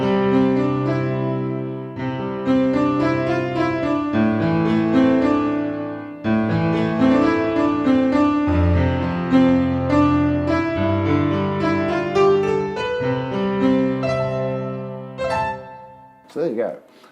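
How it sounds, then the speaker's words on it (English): An 8Dio sampled piano plays alone and dry, with no effects: a sustained passage of chords and melody, full and close, without pauses until a brief change near the end. "This is the sound of the piano on its own with no effects."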